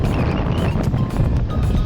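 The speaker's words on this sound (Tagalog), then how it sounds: "medyo malakas pa rin ang hangin natin mga kacharito natin dyan" Strong wind by the sea buffeting the microphone in a low, constant roar with gusty rumbling throughout; no speech.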